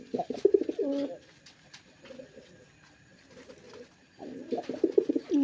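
Local domestic pigeons coo in close, rhythmic bursts at the start and end, separated by a quieter stretch with soft low murmurs in between.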